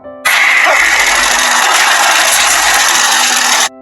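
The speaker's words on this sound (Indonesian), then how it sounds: "suara mesin tiba-tiba hidup" A motor abruptly roars into life and runs loud and steady for about three seconds, then cuts off sharply.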